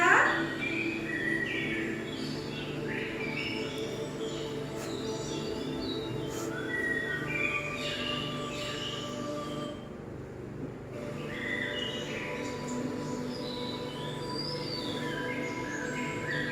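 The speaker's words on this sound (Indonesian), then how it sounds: "Apakah kalian mendengar suara burung?" Birds chirp and tweet steadily over a constant background hum, with bright repeated calls scattered throughout and a brief dip in the middle.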